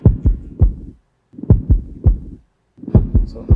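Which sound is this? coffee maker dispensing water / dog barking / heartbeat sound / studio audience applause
heartbeat sound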